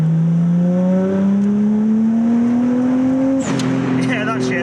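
A 450+ horsepower Nissan R34 Skyline accelerates hard in third gear, its engine note climbing steadily and loudly from inside the cabin before a sharp shift, with excited voices over it.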